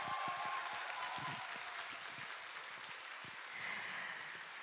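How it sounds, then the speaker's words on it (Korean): Faint, steady applause from a concert audience after a youth orchestra's annual performance, a dense wash of many hands clapping continuously at a distance for the whole stretch. "마지막으로 지휘를 맡아주신 우리 김종영 선생님께 다시 한번 큰 박수 보내주시기 바랍니다"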